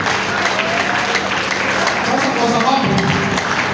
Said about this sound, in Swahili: Hebu mpatieni makofi juu.